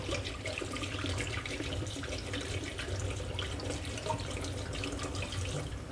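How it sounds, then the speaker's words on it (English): Tap water runs steadily into a sink, filling it while rabbit water bottles are cleaned with dish soap, a continuous close splashing hiss with no talk. "We just keep letting our water fill up."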